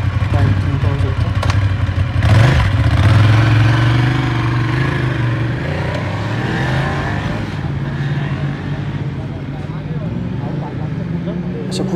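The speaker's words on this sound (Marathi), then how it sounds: "अशा खूप साऱ्या बाईक या रोडवरून जात होत्या" Many motorbikes pass along a road near a roadside breakfast stop on the way to Ekvira temple in Konkan. Loud engines rise and fade as they go by close, with voices mixed in.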